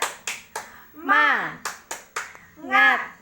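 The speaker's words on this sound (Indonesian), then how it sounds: "Kita tepuk semangat dulu." A group of women in a class claps a patterned rhythm of sharp, separate claps in clusters, alternating with shouted chanted calls between them.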